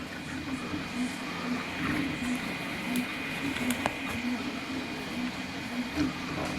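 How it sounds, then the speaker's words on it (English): 3D printer working at high speed, up to 150 millimeters per second: a continuous mechanical whir with a faint steady whine and soft stepping patter, a few sharp ticks on top, no talk. "Printer is supposed to be capable of printing at 150 millimeters per second."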